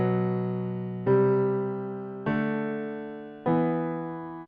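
Synth playing four sustained chords of root notes doubled a fifth above, each struck cleanly and slowly fading before the next, steady and close with no voices.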